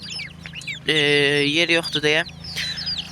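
Chicks let out of their coop give high, rapid peeping calls, with a loud, clear hen cluck or squawk rising in the middle; a person speaks briefly over the birds.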